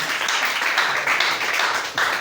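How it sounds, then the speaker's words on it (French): A church congregation claps for Lia during a sermon, a dense burst of applause lasting a couple of seconds, loud and close, with no voices over it. "Acclamez pour Lia."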